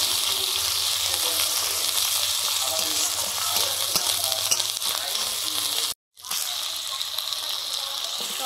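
Onion, ginger, garlic and pepper paste with turmeric frying in hot oil, a loud close hiss and crackle that runs steadily, breaks off for an instant, then resumes.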